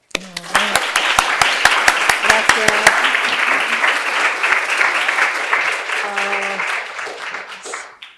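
A lecture audience applauds to welcome the speaker, steady loud clapping from a full room that builds quickly, holds for several seconds and fades out, with brief voices at the start.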